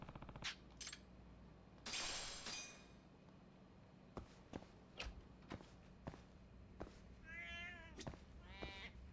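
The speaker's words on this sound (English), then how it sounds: "There's all my cats." Several house cats meow at home, a few short calls spaced out near the end, amid light clinks, taps and footsteps in a quiet room, with no talking.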